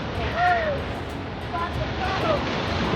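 Sea waves wash onto the beach at Rameswaram in a soft, continuous surf roar with some wind. Faint distant cries or whistles drift over the water.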